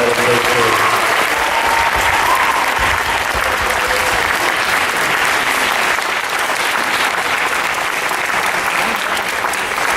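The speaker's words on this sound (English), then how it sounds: "Give Bobby Seale another round of applause." Sustained applause from a lecture-hall audience at Florida State University fills the space loudly and steadily for the whole stretch, a dense wash of many hands with a few brief voices near the start.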